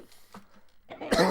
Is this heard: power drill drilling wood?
no